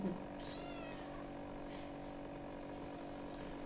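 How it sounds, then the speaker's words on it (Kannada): A cat meows faintly, a brief rising and falling cry over a steady hum of low background noise in a quiet indoor space. "ಬೆಕ್ಕು ಬಂದಿದೆ ನೆನ್ನೆ."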